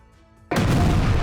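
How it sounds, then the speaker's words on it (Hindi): A big explosion outside the army headquarters in Quetta, Pakistan erupts suddenly after a quiet moment, a loud, broad blast that continues as a sustained roaring rumble to the end. "देखिए कैसे पाकिस्तानी सेना के मुख्यालय के बाहर एक बड़ा धमाका हुआ"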